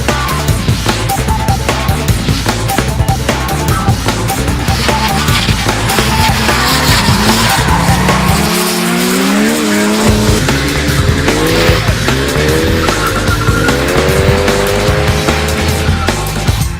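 A car drifting at a drift event in Cape Town, with a loud, continuous engine roar and long, wavering tire squeals rising and falling throughout, close and intense.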